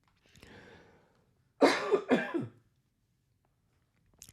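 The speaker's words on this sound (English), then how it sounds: "Well, I got through most of this without coughing." A person nearby coughs twice in a quick, harsh pair, after a soft breathy throat sound, in an otherwise quiet room.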